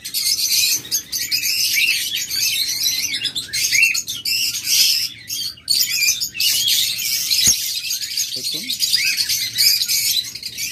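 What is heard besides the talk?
lovebirds, cockatiels and budgerigars chirping at a bird sale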